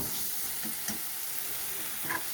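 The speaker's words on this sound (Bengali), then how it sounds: "মটরশুঁটিটাও কয়েকবার নেড়ে চেড়ে নেব।" Green peas frying with spices in a pan, a dense steady sizzle with a few soft stirring scrapes, close and even.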